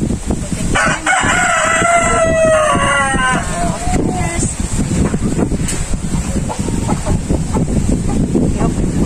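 Chickens and a rooster inside a breeder house make a loud, steady din, with a clear crow near the start over constant clucking and noise from the whole flock.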